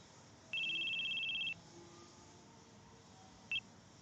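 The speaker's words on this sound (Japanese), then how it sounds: "緑の携帯が鳴る。" A green mobile phone rings in a quiet room: one sustained electronic tone lasting about a second, then a short faint chirp a couple of seconds later.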